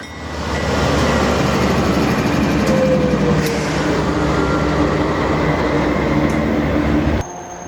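A Canadian National Railway freight train rolls along BC Rail track in the Rockies, a loud, close, steady rumble of wheels and cars with a faint wheel squeal partway through, cutting off abruptly near the end.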